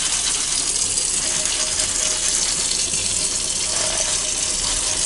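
Tap water runs steadily into a new cast iron skillet in a sink, a loud, continuous rushing splash with faint metallic knocks as the pan is handled, and no voices.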